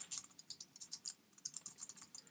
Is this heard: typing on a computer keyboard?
yes